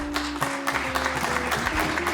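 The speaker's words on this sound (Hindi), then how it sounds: "तालियां।" Applause from an audience at a comedy poetry competition on an Independence Day stage, a steady wash of clapping lasting a couple of seconds with a faint musical tone underneath.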